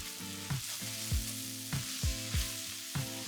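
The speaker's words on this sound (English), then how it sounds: "Then add a bit more oil, garlic, and thyme and cook for 1 to 2 minutes until it smells amazing." Garlic, thyme and mushrooms sautéing in oil in a single pot, a close, hissing sizzle punctuated by a few regular scraping stirs.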